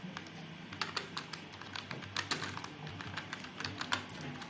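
Steady typing on a computer keyboard while text is entered in PageMaker, a run of quiet, closely spaced key clicks with a few louder taps, close by and with no talking.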